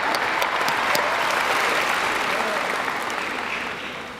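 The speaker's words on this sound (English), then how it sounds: "Let's give them a well-deserved round of applause" A graduation ceremony audience applauds in a dense, steady wash of clapping that holds for several seconds, then begins to thin and fade toward the end.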